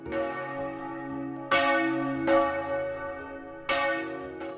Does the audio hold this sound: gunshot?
no